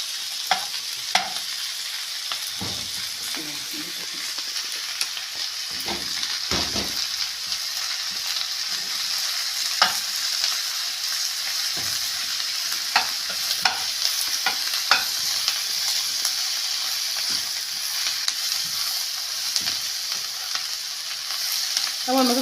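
Peppers and garlic fry in a pan with a steady sizzle throughout, broken by scraping and clattering stirs at intervals, close and with no talk.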